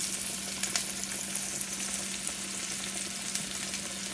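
Pork chops browning in a hot frying pan, a steady close-up sizzle and crackle with scattered spits, continuous and fairly loud with no talking.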